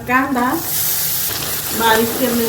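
Cumin seeds and finely chopped onion frying in a little leftover oil in a pan, a steady close sizzle running throughout with a voice talking over it at the start and end.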